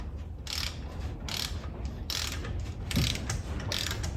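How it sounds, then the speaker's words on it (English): A Capri Tools 1/2-inch flex-head split beam torque wrench tightening lug nuts, giving a run of sharp, regular ratcheting clicks in quick bursts, close and clear with no talking. "You can hear it hopefully click."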